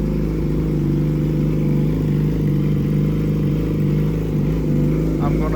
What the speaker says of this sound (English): So here's how the bike sounds.